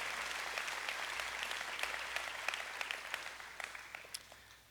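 Audience applause fills a commencement ceremony held at a beach church, a steady wash of many hands clapping at moderate distance, with scattered sharper claps standing out before the ovation slowly tapers off.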